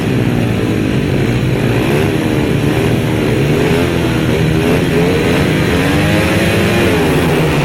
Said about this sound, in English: And race 7 is already on the line, the next of the 500cc solos.